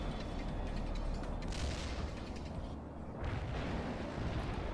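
Artillery rounds from a fire mission slam into a target area in the World in Conflict strategy game, a dense, continuous roar of rumbling blasts and debris with a brief dip before the barrage swells again.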